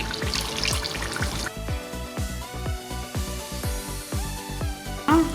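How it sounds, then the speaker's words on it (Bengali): Kewra water and rose water poured from a spoon into a pot of shinni sweet rice, a series of small liquid drips and trickling splashes in an uneven rhythm, close and fairly quiet. "এখানে আমি ওয়ান টি স্পুন কেওড়া জল ওয়ান টি স্পুন গোলাপ জল রোজ ওয়াটার"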